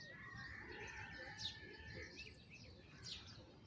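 Faint, distant pigeon calls and soft chirps come as a flock of pigeons lands outdoors, a few short calls rising over a low, steady ambient background.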